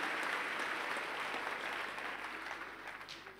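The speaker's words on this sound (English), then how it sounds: "Let's give a hand clap because of this team here." A church congregation applauding the choir at a Sunday service, a sustained wash of hand clapping that slowly fades toward the end, with no talking over it.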